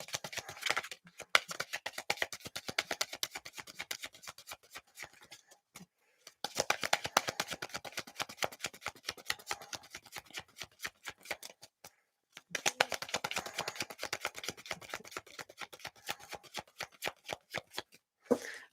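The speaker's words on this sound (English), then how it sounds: "I have to reshuffle now." A deck of reading cards is shuffled in three long bursts of rapid, crisp riffling clicks, close and fairly quiet, separated by short pauses.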